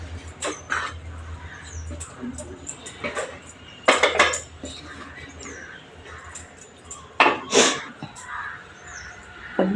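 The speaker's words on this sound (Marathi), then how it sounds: "गॅसवर परत ठेवणार आहे मी." A pot of sweet saffron rice set back on a gas stove, with several sharp metallic clanks and utensil scrapes, close by, amid quiet kitchen background and no clear talk.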